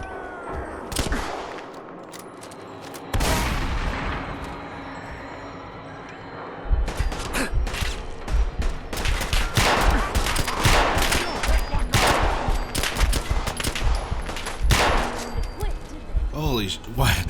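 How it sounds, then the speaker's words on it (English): Pistol gunfire in Fallout 4 with a horror mod rings out as repeated loud shots, one cracking early and then a dense run of bursts in the later half, over game ambience. "One shot to the head with the Kellogg's pistol killed them"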